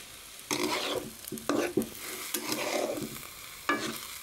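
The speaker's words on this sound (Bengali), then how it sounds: "এখন আমি পোলা চালটা ভাজা ভাজা করবো।" Polao rice is dry-fried and stirred in a pan, with a spoon scraping in short, uneven strokes under a faint sizzle. The sound is close, and no one speaks.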